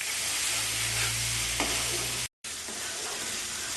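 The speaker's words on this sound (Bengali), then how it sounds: "ধীরে একটু কষবো, গ্যাসটা মিডিয়াম ফ্লেমে দেবো, দিয়ে আমি কষবো।" Spices for a Bengali-style omelette curry being stir-fried on a medium gas flame: a continuous, close frying sizzle with soft stirring, broken by a brief silent gap near the end before the sizzle resumes.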